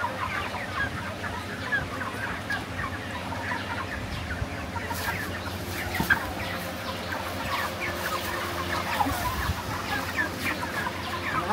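Around 600 broiler chickens of roughly 3 kg fill a poultry shed with continuous overlapping clucks and calls, a dense, moderately loud flock murmur with no talking.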